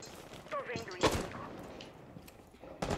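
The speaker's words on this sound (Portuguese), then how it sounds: "jogaram granada esquentada" A cooked grenade bursts in a Rainbow Six Siege match, a sharp close blast standing out once amid game noise, with a further loud crack near the end and talk running through.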